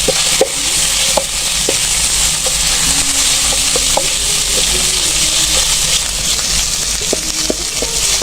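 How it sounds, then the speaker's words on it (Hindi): Shredded boiled chicken is stirred and fried in a pan, a loud, continuous close-up sizzle with repeated light clicks and scrapes of a spoon against the pan. "अब हम इसमें चिकन शामिल कर देंगे, जिसको हमने बॉयल करके श्रेड कर लिया है।"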